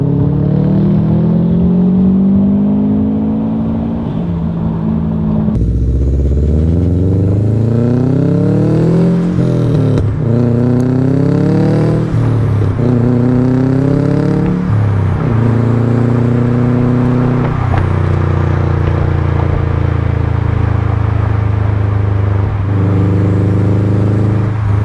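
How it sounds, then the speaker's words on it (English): Subaru STI with an aftermarket exhaust and turbo accelerating hard through the gears, a loud, close engine note rising in pitch in repeated sweeps, dropping at each shift and climbing again, with no talk over it. "I want to show you guys what it sounds like when you're boosting through all the gears."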